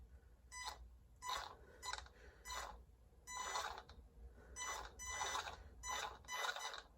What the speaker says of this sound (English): it's a real whiny ESC